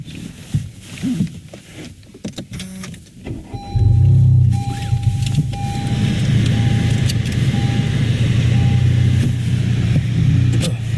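A Honda Civic Si coupe starts up after some interior rustling, the engine catching with a loud surge and then settling into a steady idle, close and clear with a faint tone running over it.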